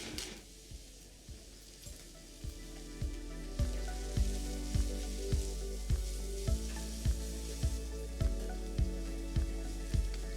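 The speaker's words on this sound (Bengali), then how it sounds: "রসুন কুচি আর আদা কুচিটাকে আমি ভালো করে ভেজে নিতে পারি" Chopped garlic and ginger fry in oil in a pan for egg fried rice and masala curry, a soft continuous sizzle cut by a steady, regular series of spatula knocks and stirring strokes.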